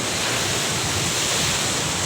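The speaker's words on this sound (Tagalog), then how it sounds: "Sobrang lakas ng alon nito mga master." Steady, roaring wash of surf, loud and unbroken, like strong waves crashing continuously with wind.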